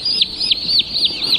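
Young turkeys newly delivered in a box give a steady stream of high, repeated chirping peeps, close and fairly loud, in a quick regular rhythm with no talking.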